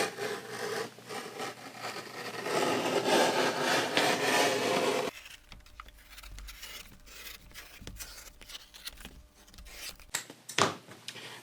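Thick leather is cut for a one-piece saddle swell cover, giving a loud, continuous rasping cut for about five seconds, then quieter scattered scraping and handling noises.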